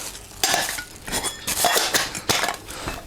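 Metal camping cookware, pots, a lid and a frying pan, clink and clatter together in several quick bursts, close by, with no talking.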